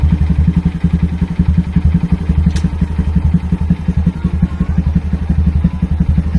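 A Honda Grom motorcycle engine with a newly replaced crankshaft runs at a steady, loud, close idle with an even pulsing beat and no one talking.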